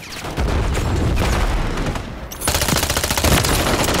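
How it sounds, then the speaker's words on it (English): Rapid gunfire from Call of Duty MW3 Zombies, dense bursts of automatic shots close up, continuous and loud throughout with a brief dip before a heavier volley. "Ah, taking fire, man!"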